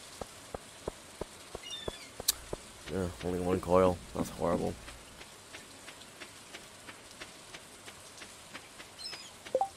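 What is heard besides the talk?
rain in the video game Stardew Valley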